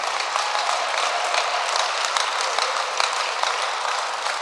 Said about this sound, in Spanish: si quiere darle un aplauso fuerte a Cristo.